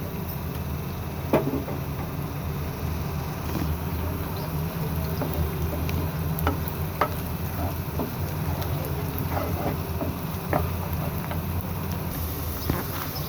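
Onions frying slowly in hot oil for a katla fish curry with peanut and mustard paste, a steady dense sizzle and crackle that runs evenly throughout with occasional sharper pops, close and fairly loud, with no talking.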